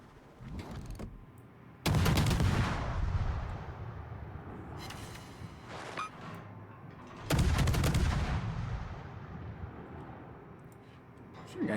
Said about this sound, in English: Shooting AP at me.